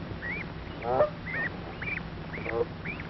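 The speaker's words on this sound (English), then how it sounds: "Father Gander and Mother Goose watch as the goslings have their dinner" Geese on a poultry farm, a gander and goose with their goslings feeding on grass, give repeated nasal honks roughly every half second, close and moderately loud over a faint background rumble.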